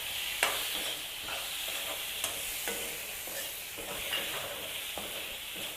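Chopped tomatoes added to a hot pan for chicken curry, frying with a steady close sizzle broken by occasional scraping stirs and small clinks, no voices.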